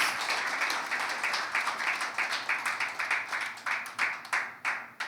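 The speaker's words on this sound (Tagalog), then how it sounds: "Can we give the Lord a clap offering of praise?" A church congregation claps together in praise: brisk, rhythmic handclaps that start dense, then thin into sparser, slightly uneven claps that fade toward the end.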